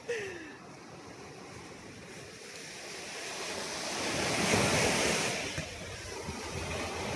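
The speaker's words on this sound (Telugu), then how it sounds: "అల్లాలు అయితే మస్తు వస్తున్నాయి" Ocean surf at Kanyakumari beach rushes in a broad, continuous roar that swells to a peak midway and then eases, with wind buffeting the microphone.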